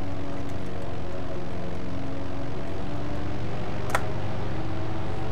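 A World War II propeller aircraft engine in IL-2 Sturmovik 1946 drones steadily and loudly in the cockpit, a continuous rumbling hum with a brief click partway through.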